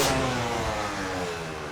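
A freestyle motocross motorcycle at a rider's home training ground in Seignosse, Landes, revs hard and then holds a steady, close engine drone that eases slightly.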